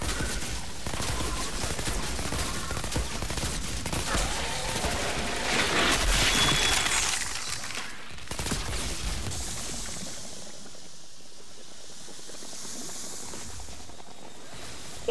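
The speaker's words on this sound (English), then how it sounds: "got a change to my assault rifle" Sustained assault rifle fire in the video game Outriders, a dense, loud burst of rapid shots that continues for several seconds, swells, then fades into a quieter rumbling ambience with no voices.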